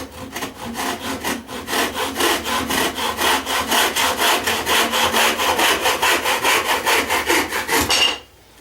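A hand saw with a home-built frame and a self-filed blade cuts wooden parts in quick, regular rasping strokes, about twenty close, loud back-and-forth passes that stop abruptly near the end.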